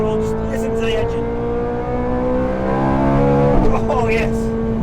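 Ferrari 430 Scuderia engine revving loudly and steadily, its rising harmonic whine climbing through the rev range before a brief gear-change dip and renewed pull, close and dominant throughout.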